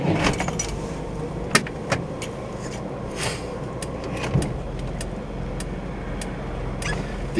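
A 1969 Chevrolet Corvair Monza SS is readied for a drive: keys jingle and sharp clicks and knocks from the car's interior sound over a steady low background rumble, with no talking.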